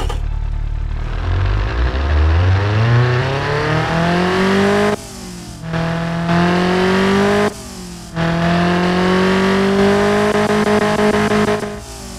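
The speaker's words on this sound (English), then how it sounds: "The exhaust should sound much better." A tuned 1977 Pontiac Iron Duke engine in a video game revs hard and climbs steadily in pitch, with two brief dips as gears shift, then keeps roaring loud and close.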